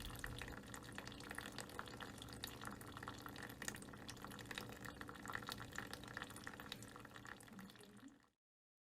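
Thin stream of water running steadily from a tap, a continuous faint hissing flow that stops abruptly at the end.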